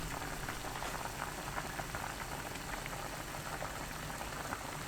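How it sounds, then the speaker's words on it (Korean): Aged kimchi doenjang soup with green onion, hot green chili and perilla seed powder boils uncovered in a pot on high heat, giving a steady, dense bubbling and popping that runs unbroken throughout, close and even. "센 불로 2분 끓이면 오늘 요리 끝"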